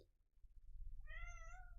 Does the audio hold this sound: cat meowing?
yes